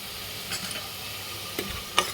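Spices frying in a pan for mutton paya, with a soft continuous sizzle broken by a few light stirring scrapes and taps, close and fairly quiet, without talking.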